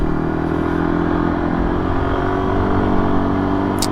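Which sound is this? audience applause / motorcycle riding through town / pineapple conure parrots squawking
motorcycle riding through town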